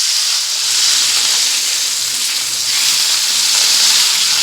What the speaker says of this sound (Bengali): এক একটা করে মাছ এখানে আমি দিয়ে ভেজে নেব।